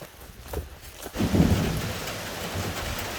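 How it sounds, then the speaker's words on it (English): Rain begins falling outdoors in a wooded scouting area, a soft broadband patter that swells after a quiet start and then holds steady, with low rumbling underneath and no talking. "I think the rain's starting now."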